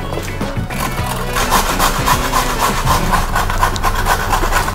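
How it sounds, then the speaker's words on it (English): A peeled carrot is grated on a box grater, producing loud, close, rhythmic rasping strokes in a steady back-and-forth pattern with no talk. "grate it using my box grater"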